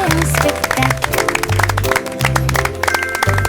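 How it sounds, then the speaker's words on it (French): Rhythmic hand clapping rings out over a bright, bouncy French children's song, with the claps sharp and steady on the beat throughout the tune. "Nous applaudissons"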